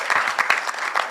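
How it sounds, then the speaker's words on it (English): An audience at a surgical society's annual scientific conference in Kenya breaks into applause, a brisk, dense patter of many hands clapping nearby with uneven accents. "So you can clap for yourselves if nobody's clapping for"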